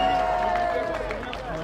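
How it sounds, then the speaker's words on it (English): Crowd applause at a Palestine demonstration outdoors, brief dense clapping mixed with cheering and voices, steady and fairly loud. "Let's give them a huge round of applause."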